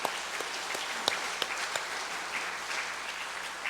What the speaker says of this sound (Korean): 우리 큰 박수로 하나님께 영광을 돌려드리겠습니다